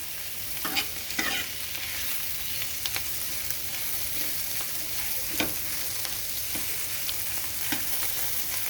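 Ivy gourd slices fry in a small pan with a steady close sizzle, and a utensil stirs them now and then in short scraping strokes. No voices.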